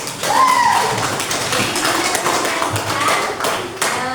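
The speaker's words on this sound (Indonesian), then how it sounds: "jadi tepuk tangan bersama" A classroom of students claps hands together in unison during a lesson, loud and close, with sharp taps and thuds and a faint voice briefly audible.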